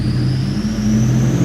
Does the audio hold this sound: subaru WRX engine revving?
yes